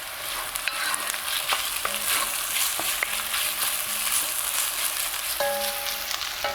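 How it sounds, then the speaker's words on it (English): Onion sizzling and roasting in hot oil in a pan, a steady bright crackle and hiss that fills the whole stretch, with a few faint clinks from a utensil now and then. "the longer onion is in oil and gets roasted"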